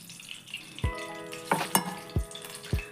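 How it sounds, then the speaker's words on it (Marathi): Stuffed kantola, or spiny gourd, frying in a few spoons of oil in a pan, with a steady low sizzle broken by several sharp clinks and scrapes of a spoon against the pan. "जे स्टफ कंटुले आहे ना ते तेलात सोडून घ्यायचं, जरा फ्राय करायचे"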